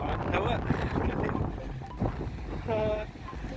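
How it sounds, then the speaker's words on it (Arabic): Strong wind on a beach road by the sea, a steady rushing roar buffeting the microphone, with someone speaking over it at moments. "انظروا هواء هواء هواء قوي"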